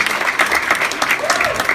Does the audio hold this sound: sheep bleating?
no